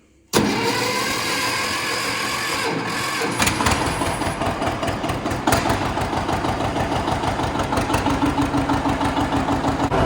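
A 4020 tractor engine cranks and catches after a brief silence, then settles into a loud, rough, rhythmic idle that chugs on steadily nearby.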